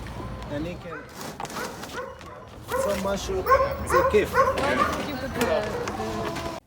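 Several dogs in transport crates yip, whimper and bark at an airport transfer of a chartered 747 cargo, the sounds close and busy, rising louder partway through amid voices and movement.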